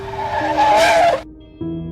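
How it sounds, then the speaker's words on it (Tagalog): Jeepney brakes hard with tires skidding, a loud squealing screech lasting about a second over engine hum, cutting off abruptly before a low idle resumes. "napabrake siya ng napakalakas"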